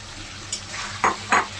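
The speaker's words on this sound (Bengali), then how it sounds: "এখন আমি আলু দিয়ে দিচ্ছি। সয়াবিনটা দিয়ে দিচ্ছি।" Potatoes and soybeans sizzle softly in a pan while a utensil stirs them, with a few short scraping strokes standing out over the low frying hiss.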